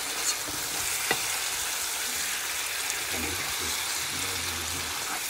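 Potatoes with paprika being stirred in a frying pan, a steady soft sizzle with scraping stir strokes and a few low clunks, moderately close and continuous.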